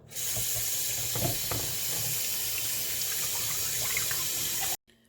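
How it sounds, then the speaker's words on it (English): Room-temperature tap water runs steadily over saltfish to rinse it, a close, even rushing stream with faint splashes that cuts off abruptly near the end. "I'll be running a little room temperature water over the saltfish just to rinse it off a little"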